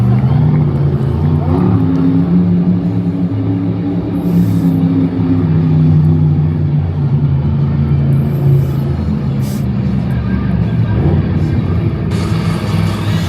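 The Dragon monster truck's engine roars and revs through a freestyle hit at Monster Jam in Lyon, France, a loud low rumble that rises and falls under a commentator talking.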